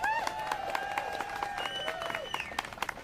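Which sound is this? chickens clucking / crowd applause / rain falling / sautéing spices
crowd applause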